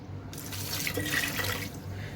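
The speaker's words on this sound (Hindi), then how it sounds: "और इसके साथ मैं डालूंगी पानी।" Water pouring into a pressure cooker holding minced beef, tomatoes and spices, a steady splashing stream running for about two seconds, close and clear with no talking.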